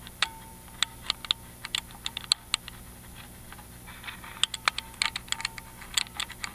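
Quiet metallic ticks and clicks from picking the pins of a Miwa EC cylinder lock, irregular single taps and short clusters up close, with no voices.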